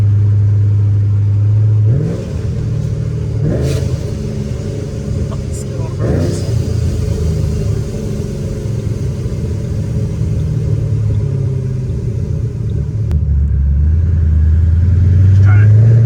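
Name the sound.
supercharged Ford Mustang engine revving, heating the tires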